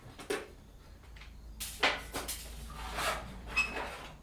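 A plastic socket set case lid is handled and popped open, giving a few close plastic clacks and rattles of moderate loudness, with no speech.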